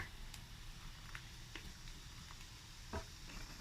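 Pork belly with carrots, potatoes and mushrooms sizzles in a pan over low heat, a steady soft frying hiss with a few light clinks and stirring scrapes, no voices.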